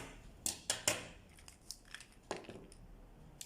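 Scissors snip through twisted sinamay fabric, several sharp crisp cuts in quick succession, then scattered quieter rustles and another snip, close and faint.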